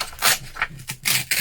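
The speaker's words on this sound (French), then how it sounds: "je déchire comme ceci pour avoir cet effet un peu vieilli" Paper being torn by hand for an aged, vintage junk-journal look: several short, close, papery rips in quick bursts with brief pauses between them.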